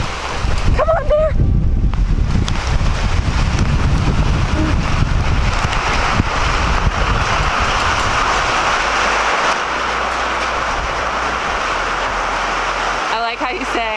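Torrential rain pours down with gusting wind in a loud, steady roar that fills the whole stretch, with a voice briefly heard near the start.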